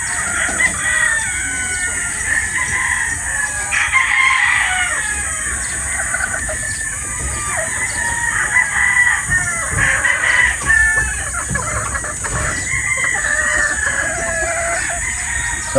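Straight comb gamefowl crow repeatedly while hens cluck around them, several overlapping calls at moderate distance over a steady background hum, no speech.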